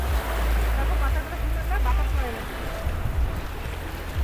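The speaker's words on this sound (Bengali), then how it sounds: "কিন্তু এটাও সমুদ্রের ধারে" Waves wash against the sea shore of Maafushi island in the Maldives, buried under heavy, continuous wind rumble, with faint voices in the background.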